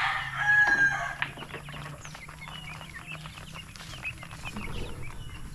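Chickens at a backyard poultry coop cluck in a busy, overlapping chorus, with a rooster crowing loudly near the start over a faint steady hum.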